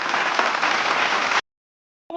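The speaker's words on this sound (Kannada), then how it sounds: "ಬರಲಿ ಒಂದು ಜೋರಾದ ಒಂದು ಚಪ್ಪಾಳೆ." An audience applauds a contestant at a season 20 singing audition show: loud, dense clapping for over a second, which cuts abruptly to silence before a brief new sound begins at the end.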